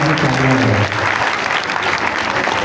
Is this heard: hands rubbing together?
no